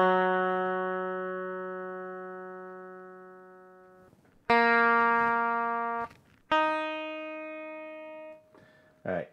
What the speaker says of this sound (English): So sorry for the tuning noises.